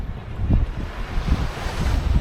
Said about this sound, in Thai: บรรยากาศริมทะเลครับ